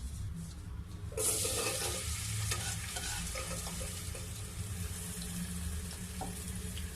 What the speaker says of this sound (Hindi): अब हम इसमें ये आलू शामिल कर देंगे।